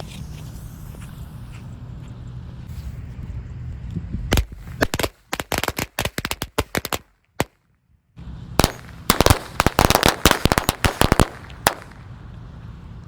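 A rapid string of small lighter firecrackers crackling and popping loudly, bursting in irregular clusters with a brief pause before a denser final volley.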